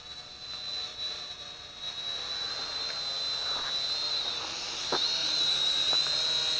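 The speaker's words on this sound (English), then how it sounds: "Very stable quadcopter." A Syma X5C quadcopter drone hovers with a steady high-pitched whine from its small motors. The tone holds fairly constant at moderate volume, with a few faint clicks and ticks underneath and no talking.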